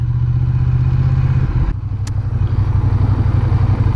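A motorbike ridden close by, its engine giving a loud, steady low drone that dips briefly before settling back into an even, rumbling run.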